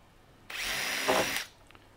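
A power drill bores about 10 mm into a melamine drawer panel, a single close, steady whine lasting about a second, with a slight rise in pitch as the bit bites.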